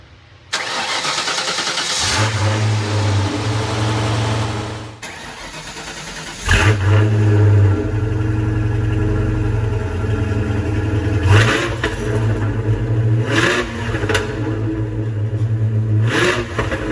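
A 1995 Ford Mustang Cobra cold starts with a crank and catch, then idles high and rough, with several sharp throttle blips and a deep rumbling idle between them, close and loud.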